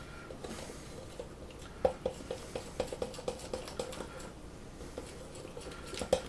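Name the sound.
stirring waffle batter in a bowl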